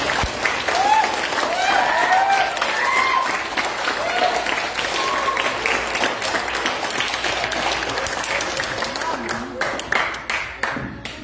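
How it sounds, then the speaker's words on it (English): An audience at a scout troop court of honor gives a long, sustained round of applause for scouts earning merit badges, dense clapping that fills the room and slowly thins toward the end. "Can we get another big round of applause for all of our scouts who earned merit badges?"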